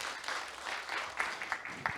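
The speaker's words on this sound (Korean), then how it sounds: "따뜻한 박수 부탁드립니다." At a startup demo day pitching event, an audience gives brief, soft applause: a short, fairly faint patter of clapping with a few sharper claps near the end.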